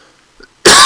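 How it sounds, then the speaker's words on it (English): A single loud, harsh cough bursts in abruptly and fills the last third of the moment, following near-silence with a faint throat noise; it comes from someone giving a helicopter flying lesson in the X-Plane 11 simulator. "excuse me, I need to cough for a moment."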